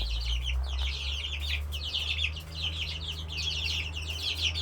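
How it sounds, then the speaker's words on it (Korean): Chickens, chicks and a rooster feeding on apples make quick, chirpy clucks in rapid bursts close by over a low steady hum, with no talking. "우리 병아리들이, 우리 수탉, 우리 닭들도 그렇고, 참 다양한 걸 먹는 것 같아요"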